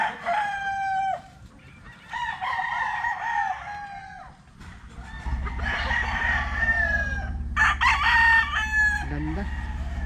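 Several roosters at a gamefarm crow in overlapping calls, loud and near, with clucking fowl between the crows and a low steady hum underneath; no talk.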